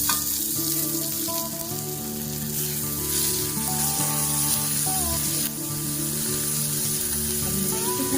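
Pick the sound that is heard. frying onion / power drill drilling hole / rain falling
frying onion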